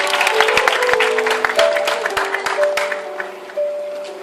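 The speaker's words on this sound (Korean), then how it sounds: "자, 크게 박수 주시기 바랍니다." An audience at a small-church fair applauds loudly and steadily while a voice and sustained tones carry over the clapping.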